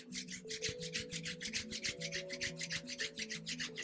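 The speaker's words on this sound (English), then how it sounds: "begin to rub the hands vigorously" Palms of both hands rubbed together vigorously during a yoga session, a steady rapid swishing friction with an even back-and-forth rhythm, close and fairly quiet, with no talking.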